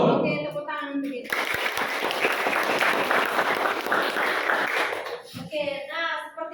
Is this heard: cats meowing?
no